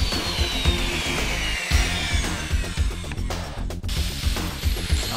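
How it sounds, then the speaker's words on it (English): A saw cuts through PVC pipe in quick, steady strokes with a gritty rasp, close and fairly loud, with no talking. "Cutting the PVC can be done either with a hand saw, a circular saw, or even a chop saw"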